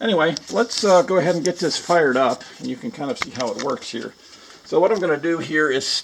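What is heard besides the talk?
No everyday noises stand out.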